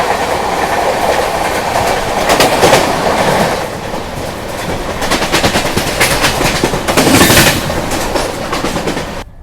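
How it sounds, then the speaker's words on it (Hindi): A Rajdhani Express train running at speed while overtaking the Sevagram Express, heard as a loud, continuous roar with rhythmic clickety-clack bursts from the wheels and swelling rushes as the carriages pass. "अब हमारी ट्रेन इस ट्रेन को ओवरटेक करने वाली है"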